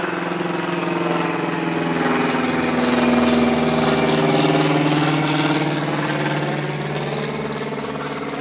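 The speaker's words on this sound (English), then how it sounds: "it looks like I'm getting dive bombed by a small airplane here" A small propeller airplane drones low overhead, a steady buzzing engine tone that swells louder midway and then eases slightly as it passes, heard on its own without talk.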